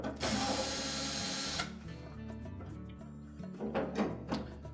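A power driver backs Phillips screws out of the top panel of a Whirlpool dryer, giving a short burst of loud whirring followed by a fading motor whine and light clicks of the screw and tool, all close by.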